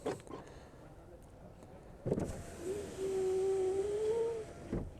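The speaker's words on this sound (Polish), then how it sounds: "szyby nie wydawały żadnych jakichś niepokojących dźwięków" Electric windows on a Skoda Octavia 1.9 TDI whir as a motor drives a glass pane for about two seconds, quiet and close, framed by soft clicks and thumps inside the car.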